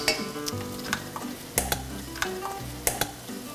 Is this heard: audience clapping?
no